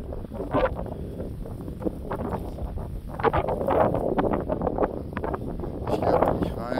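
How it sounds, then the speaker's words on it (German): Wind gusting outdoors at a beach and village resort in Marsa Alam, a continuous low rush buffeting the microphone beneath someone talking in German. "Da ist ein bisschen windig heute."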